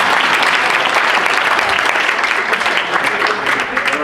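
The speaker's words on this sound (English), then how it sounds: "We've been clapping for everybody else here." A crowd at a Louisiana 6th District candidates' forum breaks into loud, sustained applause, many hands clapping densely and evenly throughout, with murmured voices mixed in.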